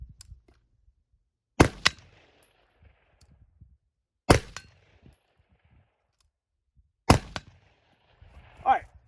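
Three sharp, loud rifle shots from a DDM4 V7 PRO SPR fired at a target, spaced a few seconds apart with quiet gaps, each followed by a short ringing tail, plus faint shuffling and a brief noise at the end.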